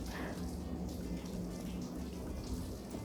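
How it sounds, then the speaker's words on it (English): Steady rain falling outside during an indoor crochet session, a dense, continuous hiss and patter with a low rumble underneath, loud and unbroken throughout. "it was raining outside, so it's a bit noisy"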